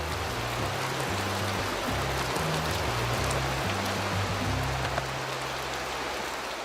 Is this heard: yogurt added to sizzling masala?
no